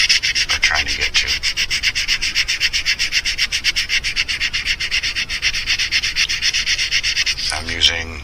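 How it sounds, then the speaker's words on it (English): Rhythmic back-and-forth rubbing of 600 grit sandpaper on a custom mouse fishing lure, steady fast strokes close up for most of the clip, ending with a brief pause and a few faint knocks. "I'm using 600 grit, just so it gets the job done a little quicker"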